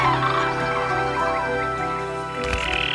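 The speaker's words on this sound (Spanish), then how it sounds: "a la vez emiten un trompeteo agudo que se oye a 5" A flock of large birds gives high, trumpeting calls at dawn in Iberian holm-oak woodland. The calls overlap steadily through the whole stretch, fairly loud and continuous, with a louder burst near the end.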